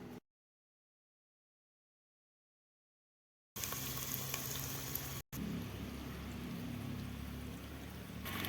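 Kohlrabi fries in hot oil in a pan over a mud stove, a steady close sizzling hiss that starts abruptly after near silence and continues with one short break.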